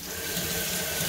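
Running tap water pours steadily over starchy food being rinsed in a sink, a close, continuous rush of water.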